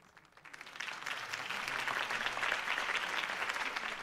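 Crowd applause follows a mayoral campaign speech in a Batman video game set in Gotham, rising from a quiet start into steady, dense clapping that holds loud and even for several seconds.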